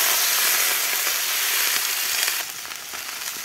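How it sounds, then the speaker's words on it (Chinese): Snails stir-fried with ginger and chili in a wok, a loud, dense, continuous sizzle and hiss that eases slightly partway through. "放入姜和辣椒爆香，把螺放下来。 翻炒一下"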